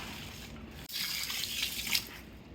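Four cups of cold water poured into 25 pounds of ground sausage meat, a continuous splashing pour that starts suddenly and runs for about a second and a half, close and moderately loud, with no talking.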